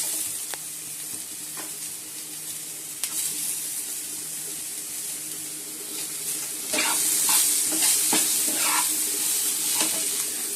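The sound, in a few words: onions added to frying potatoes in a pan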